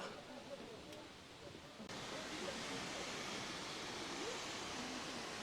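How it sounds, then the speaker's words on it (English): A waterfall near Hohenschwangau and Neuschwanstein Castles gives a constant broadband rush heard from a bridge, steady and moderately distant, with faint voices underneath. "There's a really nice waterfall."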